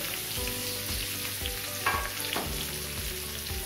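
Amla pieces fry in hot oil with turmeric, producing a continuous dense sizzle up close, with occasional stirring scrapes and clinks in the pan and no voices.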